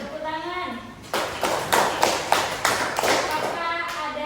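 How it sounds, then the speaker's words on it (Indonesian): A classroom group claps in a rhythmic, patterned sequence of sharp, evenly spaced bursts after a brief voice, with talk mixed in. "Tepuk tangan."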